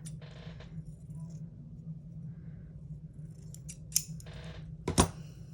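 Scissors cutting old yellowed paper, quiet at first with a few soft snips and then two sharper, louder cuts near the end over a low steady background hum.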